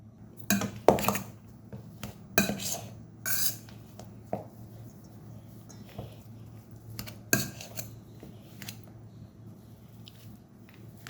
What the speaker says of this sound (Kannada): ಮ್ಯಾಶರಿಂದ ಮ್ಯಾಶ್ ಮಾಡ್ಕೊಳ್ಳೋದು